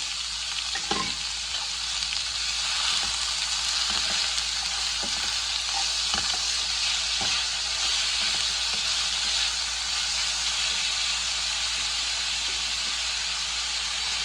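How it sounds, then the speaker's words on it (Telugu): Onions, green chillies and curry leaves fry in hot oil for egg curry, giving a constant bright sizzle and hiss with occasional clinks and scrapes of stirring in the pan, close and steady throughout. "పచ్చిమిర్చి, కరివేపాకు వేసి బాగా వేపుకున్నాం అండి"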